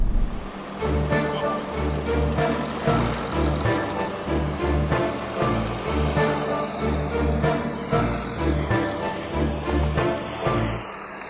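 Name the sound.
2014 Volkswagen Touareg TDI engine accelerating up a hill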